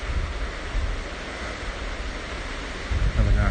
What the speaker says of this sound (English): Nice sound of running water in a moment.